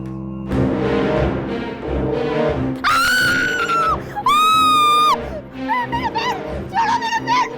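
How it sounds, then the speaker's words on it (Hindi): A woman screams in a horror drama scene, long shrill cries rising above loud music and background commotion, close and piercing, with a brief gap between two sustained shrieks. "तुम इस तरह क्यों चिल्ला रही हो?"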